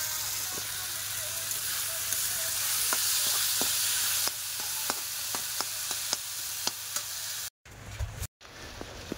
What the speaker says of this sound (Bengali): কুশি ভাজা হচ্ছে এদিকে